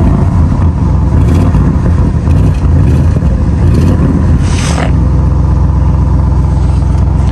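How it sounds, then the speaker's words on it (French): An MTM-tuned 800 hp Audi RS6 C8 holds its engine against a rev limiter set at 3000 rpm, a loud, close, steady roaring rumble with a brief flutter before settling to a deep idle-like drone. "Tu vois le limiteur. En fait, on a un limiteur qui bloque à 3000 tours minute."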